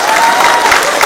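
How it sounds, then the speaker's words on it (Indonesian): Crowd applause at a speech event, with dense, steady clapping that is loud and close throughout. "tepuk tangan dulu"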